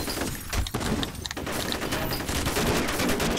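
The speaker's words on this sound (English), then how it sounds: "Shotgun." Shotgun blasts in the horror shooter F.E.A.R., loud close booming shots mixed with crashing and shattering debris, dense and chaotic with a steady roar of combat noise and no voices.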